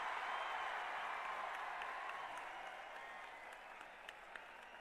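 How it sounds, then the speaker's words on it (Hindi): A crowd at a corporate gathering applauds in a steady, dense wash of clapping that holds loud and continuous, fading slightly toward the end. "अरे तालियों की गड़गड़ाहट से।"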